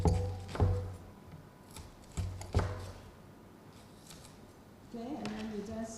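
A knife cutting food in a home kitchen, a few sharp separate chops against a board with quiet gaps between them, then a softer scraping rustle near the end.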